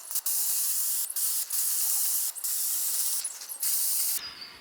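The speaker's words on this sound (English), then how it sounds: "the first thing to do is to spray that into black" An aerosol spray paint can hisses as it coats a bucket black, a loud steady spray broken by several brief pauses over about four seconds, close up with no talking.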